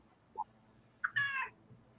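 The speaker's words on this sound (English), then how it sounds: "now I hear Kitty Cat." A cat meows indoors, one short call followed by a longer, louder meow, both close and clear over a quiet room.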